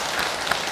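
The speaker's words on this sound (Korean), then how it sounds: "박수." A brief burst of applause from the congregation at a Buddhist dharma service in a temple hall, many hands clapping together at once.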